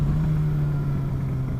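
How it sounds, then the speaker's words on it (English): A motorcycle engine hums in a steady low drone under engine braking after the throttle is released, close and fairly loud, with wind noise and no speech. "I'm just let off the throttle. That allows a little bit of engine braking."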